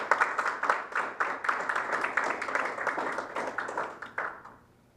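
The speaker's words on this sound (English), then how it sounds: "Let's give them a round of applause." Crowd applause at a panel discussion, dense steady clapping from many hands for about four seconds, then fading out quickly at the end.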